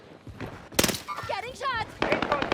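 Rapid PPSh-41 submachine gun bursts in the Warzone video game, loud and close, several stuttering volleys mixed with players talking over them.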